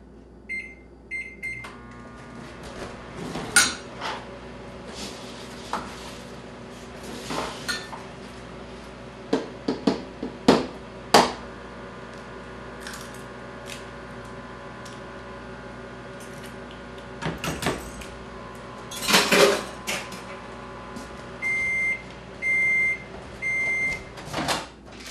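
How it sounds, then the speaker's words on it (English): A bowl of mashed potatoes goes into a microwave: dishes clink and the door clunks shut, keypad beeps sound, the oven hums steadily while running, and it finishes with a few loud repeated beeps. "so I'm just going to stick them in the microwave."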